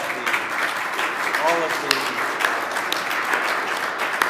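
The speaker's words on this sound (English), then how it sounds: "let's give a round of applause to all of" Applause for ward award winners at a city board of aldermen session in Grandview, steady clapping from a seated audience lasting several seconds, with a voice speaking over it.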